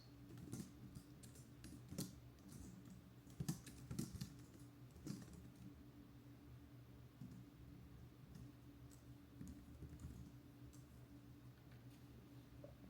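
Personal details being typed on a computer keyboard during an online credit card application, soft close key clicks in irregular bursts and pauses, quiet and near, with no talking.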